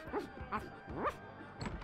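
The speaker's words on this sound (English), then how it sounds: "Hey, look, a dog with a bone." Dog barking in The Secret of Monkey Island, three or four short, close yips spaced about half a second apart, quiet and alone.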